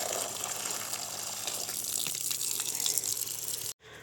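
Water runs steadily outdoors at a rural spot after a potato harvest, a continuous splashing gush like a tap or hose, fairly close, which cuts off abruptly near the end.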